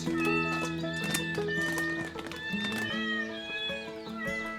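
Farm cats at a permaculture smallholding in Madeira meow repeatedly and insistently while waiting to be fed, several overlapping, rising cries close by, with other farmyard animals faintly mixed in.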